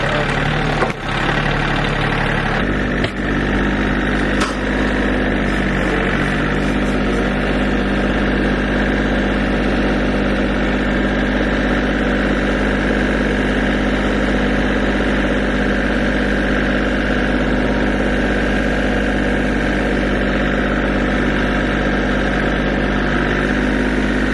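A vehicle engine idles loud and close on a snowy farm driveway while snow is being scraped. Its steady low rumble and vibrating drone run unbroken throughout, with a couple of sharp knocks right at the start.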